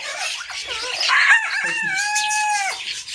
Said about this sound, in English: Well, thank you, Mr. Rooster.